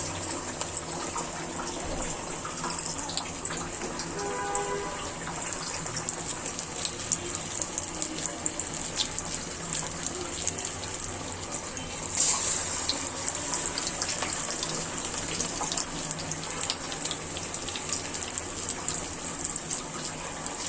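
Raw jackfruit fritters, made from a lentil, rice and flour batter, fry in hot oil with a steady, hissing sizzle that runs without a break for the whole stretch, close by and fairly even in loudness.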